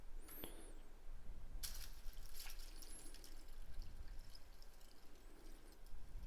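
Water poured into a container to clean silver bullion, a faint close trickle and splash with small drips and squishy liquid movement over soft background hiss, with no speech.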